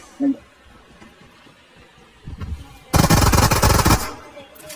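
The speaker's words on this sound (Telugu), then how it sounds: "బయట బాంబులు" Loud bursts of PUBG game explosions and rapid gunfire-like blasts, the heaviest barrage lasting over a second near the end, with faint game noise between.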